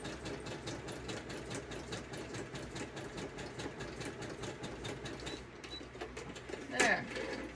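Sewing machine stitching pockets and tags for a vintage journal, a steady continuous mechanical whir with a fast rhythmic patter running throughout at moderate level, with a brief louder burst near the end.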